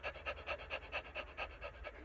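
A human voice imitates a panting dog during a vocal breathing exercise, quick rhythmic huffs repeated about four times per second, close and fairly loud, with no talking.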